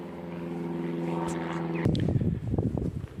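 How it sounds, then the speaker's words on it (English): A propeller plane passes overhead outdoors, a steady droning hum that swells and then gives way to a louder, rougher rumble as it draws closer, with no talking. "excuse the aircraft above me"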